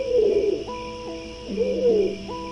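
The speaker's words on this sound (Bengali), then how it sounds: "কবুতরের ডাক শোনা যাচ্ছে মনে হচ্ছে?" Cartoon pigeon cooing in a fairy-tale scene: two soft, rolling coo phrases, each rising and falling, with tonal steps between them, fairly close and alone without speech.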